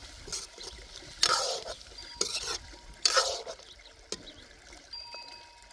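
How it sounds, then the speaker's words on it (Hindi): A spoon stirs salted meat curry in a pot, making several distinct scraping, sloshing strokes at irregular intervals with a soft simmering bubble between them, close and fairly quiet. "अच्छी तरह से मिक्स कर लें।"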